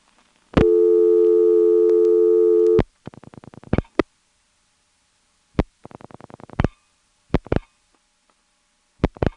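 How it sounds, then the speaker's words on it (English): A call placed into a number 5 crossbar telephone exchange gives a long steady ringing tone that trips off, followed by repeated short ring bursts from an intercept concentrator, with clicks and silent gaps between. "We're calling a number 5 crossbar that has pseudo-modern ring, which trips, and then the ring from the downtown Intercept concentrator takes over."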